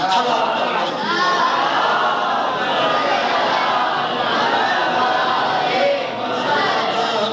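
At a Muharram majlis in Waghraji, Sindh, a large crowd loudly chants a religious slogan in unison, the massed voices steady and close throughout.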